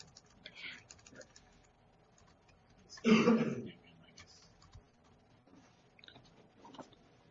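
Soft, sparse keystrokes on a QWERTY computer keyboard during a hands-on software workshop, quiet and intermittent, broken by one louder throat-clearing burst midway.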